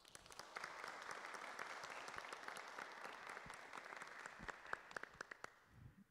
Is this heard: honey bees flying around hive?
no